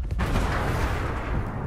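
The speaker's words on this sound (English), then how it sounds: "there's like double explosions when you blow them up like that" Explosions in the military shooter Ghost Recon Breakpoint, a sharp blast at the start that runs into a dense, sustained rumbling roar, loud and close, with no talking.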